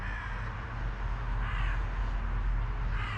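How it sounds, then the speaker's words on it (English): Seagulls call in repeated harsh cries at a moderate distance as a loose dog chases them off, set against a low rumble of wind or surf. "And there go our seagulls."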